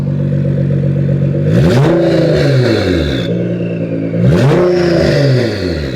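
A loud Nissan GT-R engine with a downpipe, ECUTEK tune and Boostlogic exhaust revs twice from idle, each throaty exhaust roar climbing and falling back, with a whistling whine trailing after.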